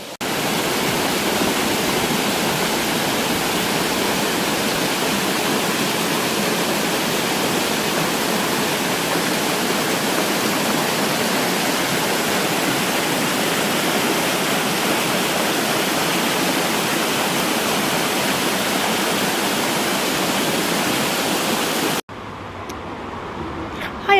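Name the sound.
waterfall on river in Bath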